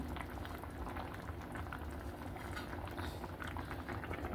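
Sylhet-style lentil (chana) pulao simmering in a covered pot on a low flame, giving a steady, continuous bubbling hiss throughout with no voices.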